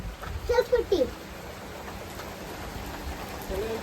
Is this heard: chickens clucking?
no